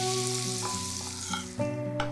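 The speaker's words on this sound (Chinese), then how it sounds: "油烧热至冒烟，浇上去，搅拌均匀" Smoking-hot oil hits a bowl of flour and five-spice powder for a flaky bread filling, producing a loud crackling sizzle that fades gradually, then flares again as the mixture is stirred.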